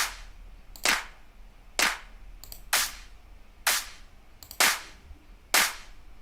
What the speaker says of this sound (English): Then we have clap.